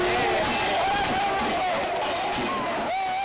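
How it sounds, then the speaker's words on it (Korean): A dense New Year's Eve crowd packed in at Bosingak, with a constant loud hubbub of voices, shouts and babble filling the air and nearer talk over it. "제야의 종소리 듣기 위해 몰려든 보신각 인파 속에서 대대적인 태극기 홍보 나선 아저씨"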